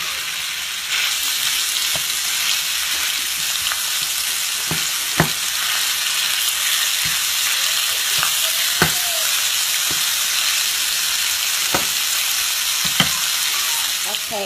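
Beef mince and onions sizzle steadily in a frying pan, a constant close hiss broken by occasional clicks and taps of a spoon stirring.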